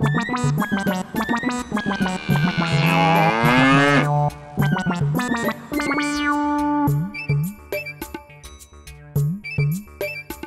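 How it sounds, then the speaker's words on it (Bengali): A cartoon bull lets out a long, loud bellowing moo amid dense, bouncy cartoon music and sound effects, with the call dominating the middle of the passage. "আমি একটা ষাঁড়ের আওয়াজ শুনতে পাচ্ছি।"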